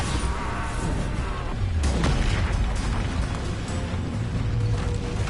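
Bombarda explosion spell in Hogwarts Legacy, a deep booming blast rumbling loudly with crackling debris and mechanical creaks over several seconds.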